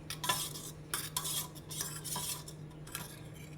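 A small spoon scrapes and clinks through rava dosa batter in a bowl, making several quiet bursts of stirring with short pauses between them and no voices.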